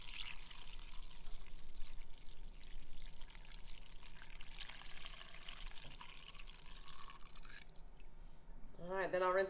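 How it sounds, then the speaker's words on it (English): Steady running water rinses a milk filter from a goat milking setup, a continuous pour that goes on for several seconds before a brief different sound at the very end. "then I'll rinse the filter out and swap it"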